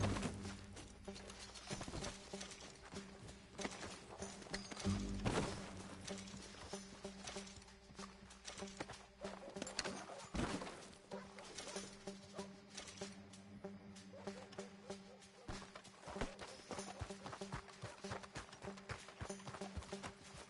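Horse hooves clip-clopping in the video game Red Dead Redemption 2, a steady patter of hoofbeats under a faint, continuous ambient background.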